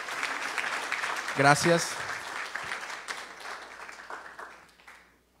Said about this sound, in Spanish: Aquí, un fuerte aplauso.